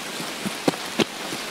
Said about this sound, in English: Start raining heavy.